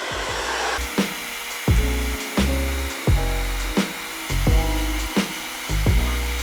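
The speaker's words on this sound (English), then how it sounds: "I blow dry that section on cool" A hair dryer blows on its cool setting over the lace of a wig, a constant airy rush that runs through the whole stretch beneath louder rhythmic background music.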